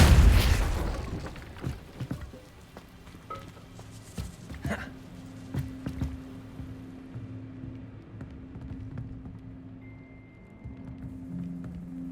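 Spell blasts cast in the Hogwarts Legacy game: a loud burst at the start, then scattered thuds and sharp pops over a low steady hum.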